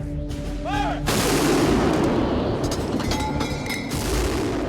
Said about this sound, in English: Another projectile is shot from the cannon at a speed of 460 meters per second